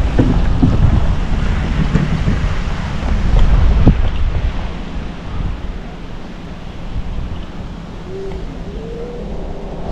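Strong wind buffets the microphone during a scooter ride near a bridge, a loud, steady rumbling roar throughout with gusts swelling and easing and no talk.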